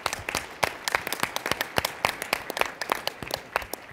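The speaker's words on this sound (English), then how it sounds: "That deserves a round of applause." Audience at a conference plenary applauding, a crowd of distinct sharp claps close and moderately loud, irregular but continuous for about four seconds with no talk.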